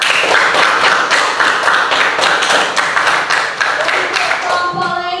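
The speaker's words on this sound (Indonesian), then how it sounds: "Tepuk tangan dulu untuk kelompok 3." A classroom group claps for the third presenting group, a loud, dense round of hand claps that carries on throughout, with a voice beginning to speak over it near the end.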